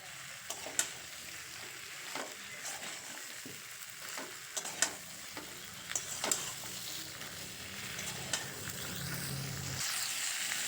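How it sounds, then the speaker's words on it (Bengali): Pre-fried mixed winter vegetables are stirred into sizzling spice masala in a pan, with steady frying hiss and scattered sharp scrapes and knocks of a spoon through the mixture. "আগের থেকে ভেজে রাখা সবজিগুলো এই মশলার মধ্যে দিয়ে খুব ভালো করে কষিয়ে নেবো"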